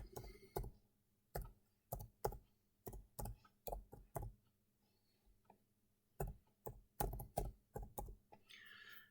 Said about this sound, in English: I will now type in the data.